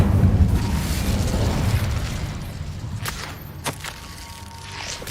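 A whooshing fiery burst as the Incendio fire spell is cast in Hogwarts Legacy, a loud roaring flare that fades into softer crackling pops and a few sharp clicks.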